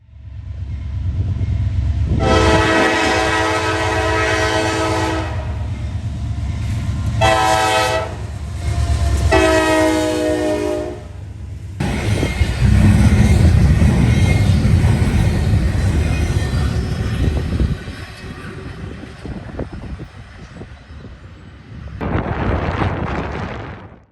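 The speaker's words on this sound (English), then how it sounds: "On another day, we see a rare daylight appearance from NS train 238, the counterpart to 239." Norfolk Southern train 238, led by a freshly rebuilt AC44C6M locomotive heading east in the morning, sounds its horn in several loud blasts, followed by the heavy rumble of the passing train and another horn burst at the end.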